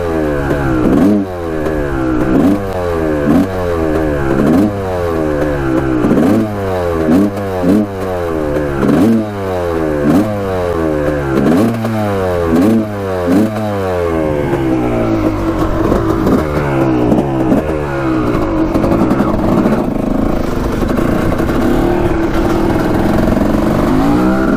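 A Honda CR250 two-stroke dirt bike engine revs repeatedly and loudly up close, with rising-and-falling bursts of throttle that give way to a rough, sustained higher drone.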